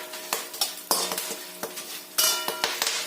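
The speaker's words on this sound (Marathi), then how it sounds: "मंद आचेवरती हे भाजून घ्यायचं" Kanda lasun masala is roasted in a pan over a low flame, giving soft scraping stirs and light clinks of a utensil, with a faint sizzle underneath, close by.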